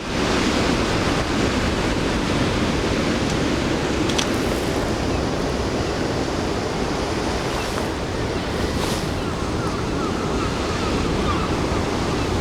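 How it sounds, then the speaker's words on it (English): Ocean waves break and wash over coastal rocks in a continuous, loud roar of surf with gusting wind buffeting the microphone, no voices over it. "Good waves though."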